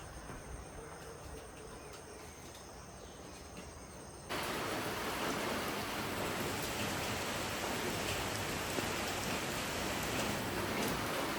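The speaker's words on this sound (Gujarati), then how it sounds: "વરસાદ જોરદાર શરૂ થઈ ગયો છે" Heavy monsoon rain falls steadily outdoors in the Dang hills, a dense hiss that suddenly swells much louder partway through and stays intense, with faint insect chirps beneath and no talking.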